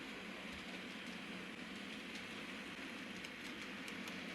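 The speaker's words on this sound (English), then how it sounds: "this trainload of cement press flows passing through hauled by a single Class 86 electric" A model cement freight train hauled by a single Class 86 electric locomotive rumbles steadily past at moderate distance, a constant broadband roar with faint rhythmic clicks of wheels over rail joints.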